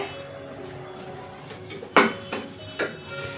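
A pressure cooker and metal pots set down on a kitchen stove, giving a few sharp clanks, one loud knock followed by two lighter ones, close against a quiet room hum.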